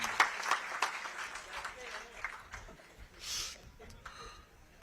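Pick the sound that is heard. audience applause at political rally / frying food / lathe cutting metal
audience applause at political rally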